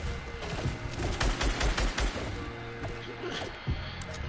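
Rapid video game gunfire aimed at another player, a dense run of loud shots in the first half that thins out later, with voices talking over it.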